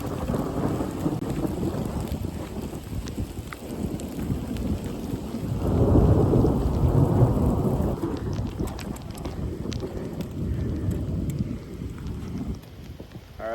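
A thunderstorm pours heavy rain outdoors near a lake, a steady loud wash of downpour with deep rolling thunder swelling in the middle and easing toward the end, no voices over it.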